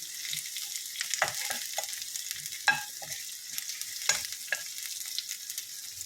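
Urad dal and onions frying in a pan for a Kerala leaf thoran, a continuous close sizzle broken by repeated scraping stirs and small pops, with no talking.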